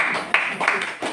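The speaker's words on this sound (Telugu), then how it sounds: "క్లాప్స్ కొట్టండమ్మా తల్లి" An audience at a Guru Purnima satsang gives a short burst of scattered clapping, a few sharp claps close together over roughly a second.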